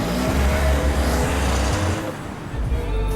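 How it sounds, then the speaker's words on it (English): A hatchback car accelerates with a loud, close engine note whose pitch climbs, dips briefly as it shifts, and then builds again. "Let's see how it accelerates."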